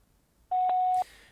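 A single telephone keypad tone for the 5 key on a voicemail system, one clean steady beep of about half a second, loud and alone, followed by a faint click.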